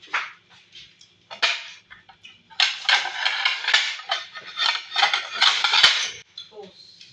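Ceramic plates and cutlery clinking and clattering at a birthday meal among coworkers in Qatar, a series of close, bright knocks and rattles in bursts, with brief voices in between.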